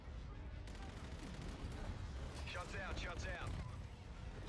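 Video game gunfire rattles in quick repeated shots under a voice talking over the game, moderately loud throughout the short stretch.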